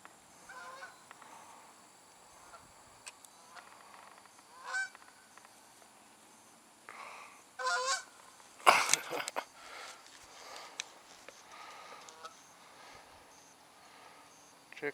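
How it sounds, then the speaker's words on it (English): Geese honk in scattered bursts near a lake where bass are being fished, with several loud, close calls around the middle amid quieter rustling and no talk. "There's some more geese coming."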